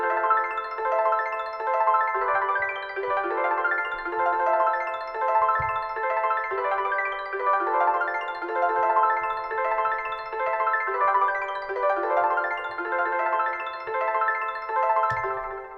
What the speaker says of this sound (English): Next, there's another ARP out of X-Band 2.